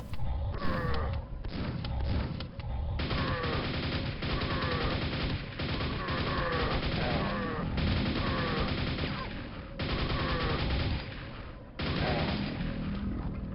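Enemies fire guns in the 2004–05 levels Bastion of the Underworld and The Marcher Fortress: dense, continuous bursts of shots that are fairly muffled and quiet, with brief breaks between volleys and no talking.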